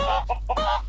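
A chicken in the block-building video game Mini World: Block Art clucks in a few quick, choppy bursts, close and clear, with no talking.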